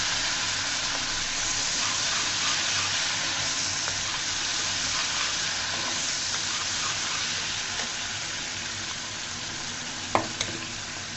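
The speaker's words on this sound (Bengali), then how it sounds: "চিংড়ি মাছকে আমি সুন্দর করে ভেজে নেব" Small shrimp fry in a pan for a bottle gourd peel stir-fry, a continuous loud sizzle with faint stirring, ending in a sharp clink near the end.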